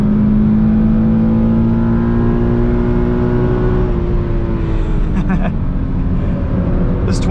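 A 2020 Toyota 86 Hakone Edition engine drones steadily while driving, loud and close with a constant low hum and slight pitch drift, and a voice talks over it.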